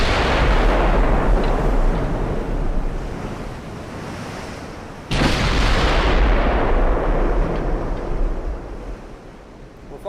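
Battle cruiser guns firing in a naval war video game, two heavy booming salvos about five seconds apart, each a loud blast trailing into a long rumbling roar like surf and wind.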